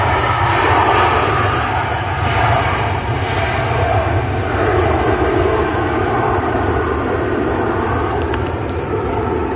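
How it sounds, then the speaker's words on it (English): Ryanair Boeing 737 Max jet airliner with scimitar winglets at Manchester Airport, its engines roaring loud and steady throughout with a broad, constant rumble. "it's just a Ryanair. It's a Max."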